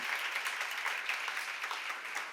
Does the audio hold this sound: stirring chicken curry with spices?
no